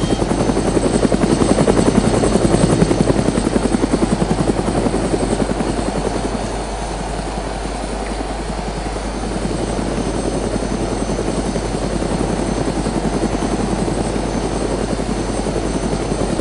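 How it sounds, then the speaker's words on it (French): A helicopter flies steadily in the DayZ video game, its rotor drone loud and continuous throughout, easing slightly after the first few seconds. "Ça avance quand même vite en hélicoptère"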